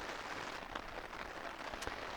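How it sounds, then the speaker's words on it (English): Heavy rain falls outside during a bike trip in Scotland, a steady dense hiss of drops drumming on a surface, with a few sharper nearby splats standing out. "the rain's coming down heavy again"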